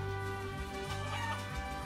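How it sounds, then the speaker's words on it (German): A chicken in the video game Guacamelee clucks repeatedly in short, close bursts over a steady background game music drone, with no voices. "Ein Hühnchen."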